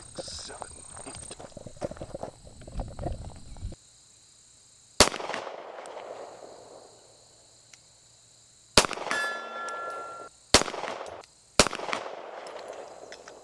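Sharp gunshots from a handgun fired at a shooting range, four loud cracks at uneven intervals, each followed by a ringing decay, after a stretch of indistinct background talk.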